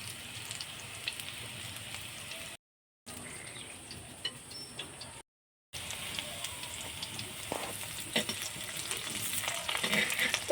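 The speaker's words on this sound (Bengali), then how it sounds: "এইভাবে উল্টে পাল্টে খুব ভালো করে আমি ভেজে নেব" Stuffed kakrol (spiny gourd) fries in oil in a clay pot, giving a soft, continuous sizzle with occasional stirring scrapes; the sound drops out in two short gaps, then returns a little louder.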